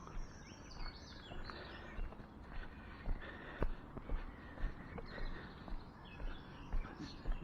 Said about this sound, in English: Oh, so many birds.